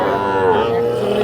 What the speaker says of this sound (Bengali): তো দর্শক এগুলো কিন্তু সবই হচ্ছে ষাঁড় বাচ্চা